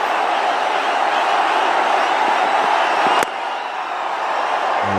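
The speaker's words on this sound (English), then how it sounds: "you can see the crowd now. They're all getting into the act." Crowd cheering at an IPL cricket match on Dhoni's home ground, a loud continuous roar of a huge stadium audience that dips slightly partway through while remaining strong.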